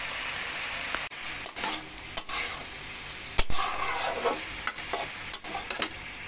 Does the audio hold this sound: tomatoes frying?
yes